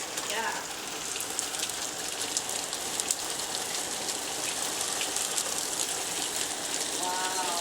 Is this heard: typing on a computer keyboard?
no